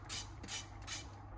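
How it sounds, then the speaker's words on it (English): Three short hissing bursts of cooking oil spray into a Ninja Foodi Max pot set to sear, close and fairly loud, each about a quarter second long, with no talking. "Let's pop some spray oil into here"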